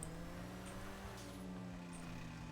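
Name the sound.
car rattling in a video game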